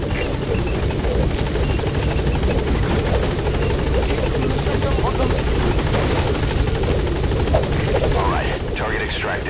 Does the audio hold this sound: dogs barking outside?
no